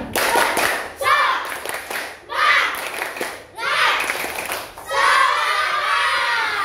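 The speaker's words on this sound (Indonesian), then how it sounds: "Kurang semangat. Tepuk semangat." Schoolchildren in a classroom repeat a rhythmic spirit clap with more energy, several loud bursts of patterned clapping mixed with shouted chanting, the final round longest and most vigorous.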